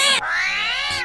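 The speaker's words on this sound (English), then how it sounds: "that's a cat." A cat lets out one loud, close meow, drawn out and slightly rising, with brief noisy breaths at its start and end.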